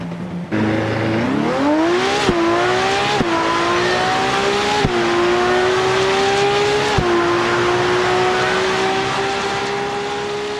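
A Ferrari Daytona SP3 supercar accelerates hard, its engine note climbing loud and close with several quick gear changes briefly breaking the rising roar before it settles into a sustained high drone.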